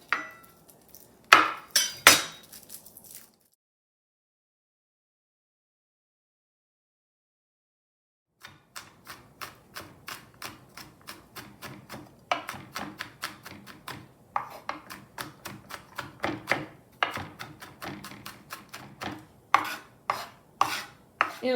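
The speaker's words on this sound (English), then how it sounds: "So I'll just keep peeling this garlic." Garlic cloves being peeled by hand in a kitchen, giving dense runs of small clicking taps and papery rubbing. A brief burst at the start gives way to a long silence, then a steady stretch of peeling.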